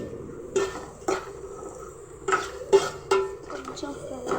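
Turmeric being stirred into a flat bean fry in a pan: a spatula scrapes and taps against the pan in several short, spaced strokes, fairly close, with a soft background hum.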